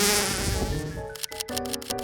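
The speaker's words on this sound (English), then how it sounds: "the bees done colonized the tree" Bees swarm around a tree outdoors in hot Arizona weather, their buzz a steady, loud drone with flickering, pulsing texture throughout, with no speech over it.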